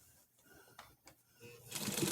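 Sewing machine stitching and backstitching on an old, worn sheet: faint clicks and soft mechanical taps, then a rising whirring run of stitches that grows louder toward the end, close and without talk.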